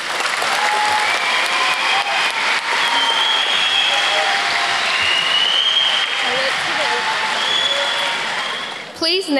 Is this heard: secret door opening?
no